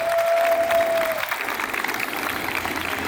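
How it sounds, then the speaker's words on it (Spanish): Loud audience applause fills a school's annual gala, dense and continuous for about three seconds, with a steady high tone running under the first second. "Fuerte aplauso."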